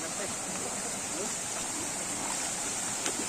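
A waterfall pours steadily outdoors, a continuous broadband rush of flowing water that fills the whole clip with no let-up.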